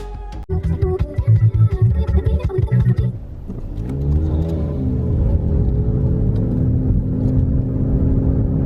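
A car's engine and road noise while driving, a steady mid-low rumble and whir that builds after a short burst of clattering, rhythmic knocks at the start, then holds evenly to the end with no talk.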